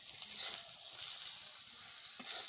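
Eggplant slices frying in a pan, a faint steady sizzle with a few light stirring touches, heard alone without voices.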